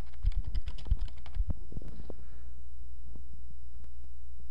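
Quick bursts of typing on a computer keyboard, a run of close, light key clicks that thins out into a few scattered taps in a quiet room with a faint hum.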